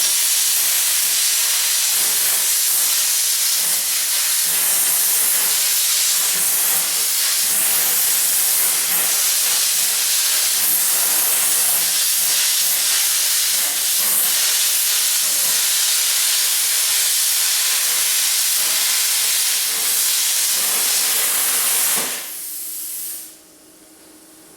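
Diamond plate metal for an El Camino bed is cut with a loud, steady, close hiss that runs unbroken for about twenty-two seconds and then abruptly cuts off, leaving quiet; no speech.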